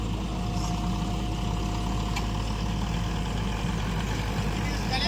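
A tipper truck's diesel engine idling at a bus stand worksite, a continuous loud low rumble filling the whole stretch without change, with voices faintly present underneath.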